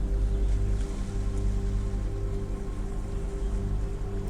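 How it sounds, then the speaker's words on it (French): Gentle waves breaking against rocks below a cliff edge, a steady broad wash of surf that stays even and unbroken throughout, with no talking. "À votre droite, en contrebas, les vagues viennent s'écraser"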